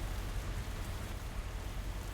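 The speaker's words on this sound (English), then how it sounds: "Rain sounds like rain" Steady, dense video-game rain hiss in a port logistics simulator, with a low rumbling undertone, continuous and fairly loud with no voices.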